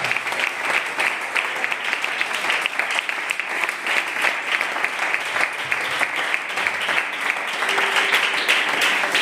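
Steady, dense applause from a large church congregation, sustained and even throughout with no pauses.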